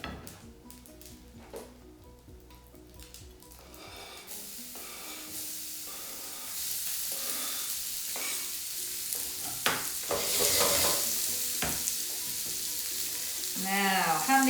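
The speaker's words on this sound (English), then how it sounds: "So a little bit more oil, then the onions can go in." Onions hit hot oil in a pan for Italian beef meatballs, a faint start building into a steady, louder sizzle with occasional spitting and stirring.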